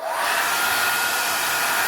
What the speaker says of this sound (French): Alors là, par contre, votre sèche-cheveux. Et on y va.